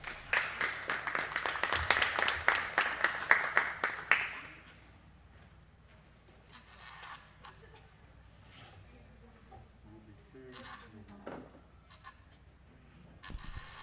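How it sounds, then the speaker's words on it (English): A crowd at a county junior fair goat show claps loudly and steadily for about four seconds, then the applause stops abruptly, leaving a quiet barn with faint scattered noises. "Let's hear a large round of applause for our judge today."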